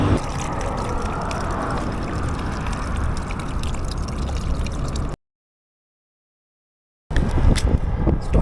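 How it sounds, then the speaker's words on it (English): Bottled drinking water poured to fill motorcycle tank bags outdoors, a steady close splashing and gurgling flow that cuts out briefly and then resumes. "we've got to fill the tank bags up"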